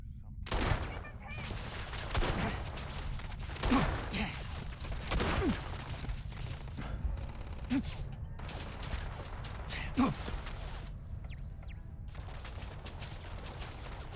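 Automatic turret fire and other gunfire in the sci-fi video game Starfield, repeated bursts of shots in a busy combat mix with occasional louder cracks, a voice talking over it.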